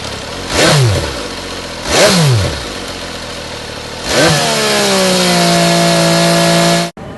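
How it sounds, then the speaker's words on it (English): Twin-cylinder engine on a 2015 Aprilia Caponord motorcycle blips sharply twice, each rev rising and falling quickly, then climbs into a sustained high rev before cutting off abruptly, loud and nearby. "This motorcycle features a Super Quattro L twin-cylinder engine."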